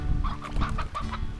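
A chicken clucking in the video game Slime Rancher, a quick run of short, close clucks over a low background hum.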